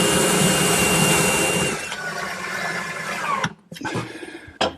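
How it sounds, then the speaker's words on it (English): A close, high-pitched whine of a power drill boring a pilot hole for screws runs for nearly two seconds, then fades into lower machine hum and a few sharp clicks. "drill a pilot hole for a couple screws"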